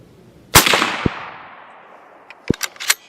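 A CZ 527 bolt-action rifle in 7.62x39 fires one loud, sharp shot that rings out and decays, followed by a few fainter clicks and knocks, likely the bolt being worked.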